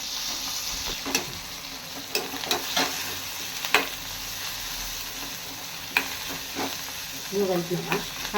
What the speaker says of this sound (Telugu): కరివేపాకు, కొత్తిమీర వేసేసి ఇది మంచిగా ఫ్రై అవ్వనివ్వాలి.